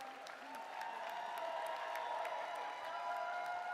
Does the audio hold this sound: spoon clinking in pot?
no